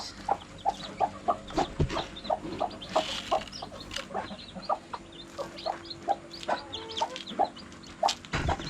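Native chickens cluck around newly hatched chicks, giving repeated short clucks and peeps at close range, with a few louder calls and scuffling sounds in between.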